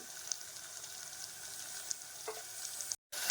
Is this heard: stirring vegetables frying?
yes